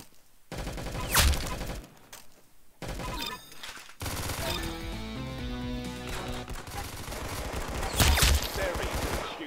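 Gunfire in the shooter game Arsenal: loud, dense bursts of rapid shots ring out in clusters, with brief pauses between volleys, alongside game music and effects.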